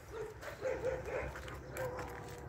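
Dogs at a dormitory grounds yip and bark in a few short, whining bursts at a moderate distance, faint under steady background noise with voices talking nearby.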